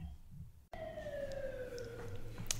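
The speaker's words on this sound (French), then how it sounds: "Avec les sirènes de police" Police car siren in central Algiers: a single falling wail cuts in after a brief silence and slides steadily downward for nearly two seconds, with faint city background and no talk.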